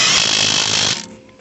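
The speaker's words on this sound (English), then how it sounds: "if you're using an impact gun like this, you can usually just hold your hand at the back, press it against it, and it should be able to just go in" A pneumatic impact gun drives in a front suspension strut bolt on a Renault Trafic or Vauxhall Vivaro, giving one loud, harsh rattling burst of about a second before cutting off.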